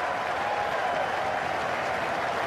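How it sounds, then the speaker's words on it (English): Australian fans in a large cricket crowd cheering and applauding a big hit, a dense, steady roar of clapping and cheers throughout, broad and fairly loud. "crowd are loving it. That's the Australian fans."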